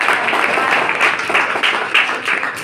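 Large audience at an exam-discussion event clapping together, a dense, steady burst of applause with rhythmic pulses, close and loud throughout.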